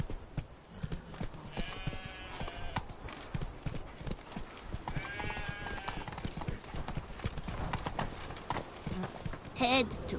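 In the video game Witcher 3, a horse trots along in steady clip-clop hoofbeats, near and rhythmic throughout, with someone talking over it and a short whinny near the end.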